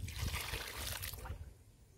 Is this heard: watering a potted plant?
yes